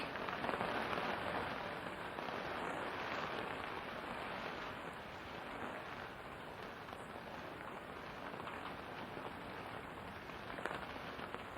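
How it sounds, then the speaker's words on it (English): Steady rain falls on a surface outdoors at Brockwood Park, a soft, continuous hiss of drops that stays faint and even throughout with no voices. "I want the rain to stop because I want to listen to you"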